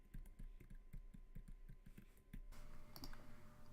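Soft, quick clicks of typing Lisp code on a computer keyboard, an irregular run of light keystrokes that grows busier and a bit louder near the end, faint and close with no talking.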